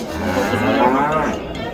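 A cow lows at an Uzbek livestock market, weighed on a scale: one long, loud, close moo that rises and falls, surrounded by a faint murmur of the crowd.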